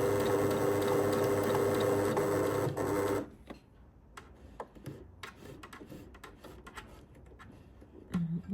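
Sewing machine stitching across a shirt cuff placket, loud steady whirring run for about three seconds, then stopping to slow, sparse clicks of single stitches and fabric handling.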